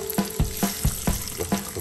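Channa maru fish, cut in half, sizzles and crackles in hot oil in a pan, with repeated stirring or turning scrapes at a steady rhythm, close and alone with no talk.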